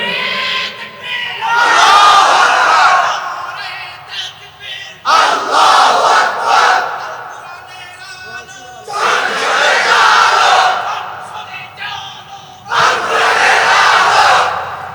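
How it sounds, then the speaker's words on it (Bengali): A crowd at a religious sermon gathering chants a slogan after an elder stands to lead it: loud, massed shouted phrases in four bursts, separated by short quieter gaps where a single voice calls out. "এবার মুরব্বী দাঁড়িয়ে স্লোগান দেন, কোরআন সুন্নাহর আলো সংসদে জ্বালো।"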